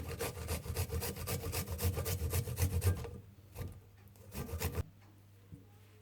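Garlic grated on a kitchen grater while making cheese fondue, a steady rhythmic rasping of repeated close strokes that stop about halfway through, followed by quieter scattered scrapes.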